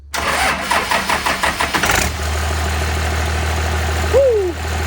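A 12-valve Cummins diesel swapped into a 1986 K3500 truck cranks over with a rhythmic starter chug for about two seconds, then catches and settles into a steady, loud idle with no throttle input.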